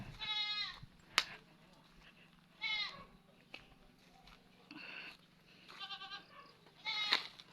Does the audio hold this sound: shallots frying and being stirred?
no